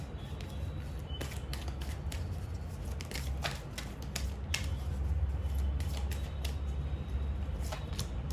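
Tarot cards being handled and drawn from a deck, a steady run of crisp, close clicks and flicks of card stock over a faint low hum.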